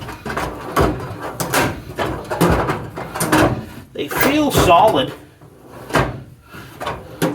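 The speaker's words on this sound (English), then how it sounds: "I'm just going to kind of go through the drawers here." All-metal rolling tool chest drawers slide open and shut in quick succession, a series of close sliding rumbles ending in sharp knocks, with someone talking between and over them.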